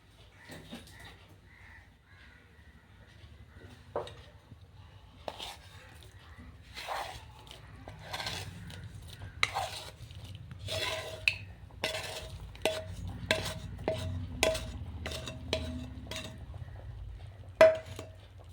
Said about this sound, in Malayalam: ഇനി നമ്മളിത് നന്നായിട്ട് ഇളക്കി കൊടുക്കണം